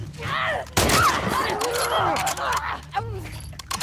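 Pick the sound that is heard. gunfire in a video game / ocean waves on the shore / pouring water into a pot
gunfire in a video game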